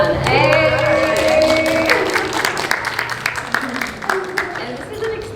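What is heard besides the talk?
audience applause for a panelist at a live podcast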